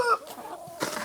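A rooster makes a few soft, close clucking calls among older hens, brief and unaccompanied by speech.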